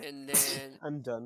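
A single sharp sneeze bursts out early, quickly followed by someone talking during an Overwatch League predictions discussion.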